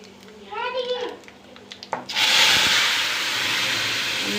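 Mustard seeds, cumin and fenugreek powder hit hot oil while tempering a mung bean curry, bursting into a loud, steady sizzle after a brief spoken lead-in.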